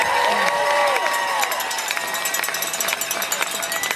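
A large outdoor crowd cheers and applauds steadily for ski racer Lindsey Vonn at a homecoming celebration in Vail, a loud continuous roar with whoops and whistles.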